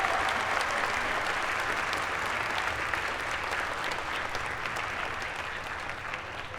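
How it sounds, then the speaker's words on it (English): A large audience at a dual enrollment recognition ceremony applauds in a dense, steady wash of clapping that carries on for several seconds and fades slightly toward the end. "Please, just another round of applause for Scholar Guy."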